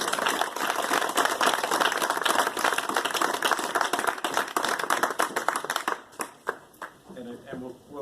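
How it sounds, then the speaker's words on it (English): An audience applauds speakers at a social justice and climate talk series: dense clapping for about six seconds that thins into scattered claps before a speaking voice returns. "Let's give a round of applause for our speakers."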